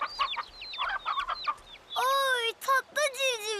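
Cartoon chicks cheep in quick high chirps, close and bright, after a short stretch of clucking-like bird calls.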